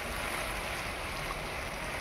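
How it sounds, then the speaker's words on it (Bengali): Water being poured into a pan of ridge gourd and potato posto curry with green chilli paste, a faint, steady splashing pour lasting a couple of seconds with no talk. "দিয়ে দিচ্ছি পরিমাণ মতো জল।"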